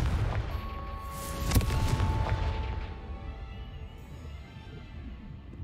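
A Confringo fire spell in Hogwarts Legacy goes off as a single loud booming blast with a sharp crack near the start, its rumble fading over the following seconds.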